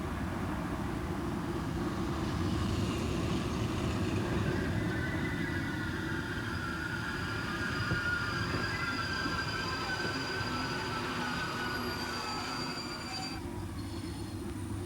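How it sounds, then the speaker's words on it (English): A BLS train rumbles steadily into a Swiss station, heavy low rolling noise with faint squealing wheels and metallic whines fading near the end. "International trains arrive from the north"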